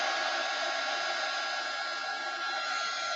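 A hair dryer blowing steadily to dry a craft shaker, a constant close whooshing hum with no breaks.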